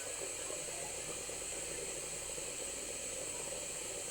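Radish curry with salt and turmeric sizzles in a little oil in a pan over raised heat in a home kitchen, a steady close hiss throughout with no talking.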